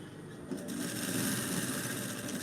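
A sewing machine runs steadily, stitching fabric in a continuous close whir that starts about half a second in and holds loud to the end.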